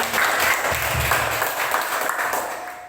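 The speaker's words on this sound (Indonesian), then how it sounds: "Kita beri tepuk tangan yang meriah untuk musik." Loud, dense audience applause rolls on steadily without a break after a music performance at a school event.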